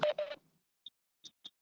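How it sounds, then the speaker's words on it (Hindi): A phone gives short, faint beeps after being unmuted during a call, several brief tones spaced apart after a bit of speech at the start. "हल्की सी बीपिंग की एक आवाज आती है आपका फोन अनम्यूट होने से"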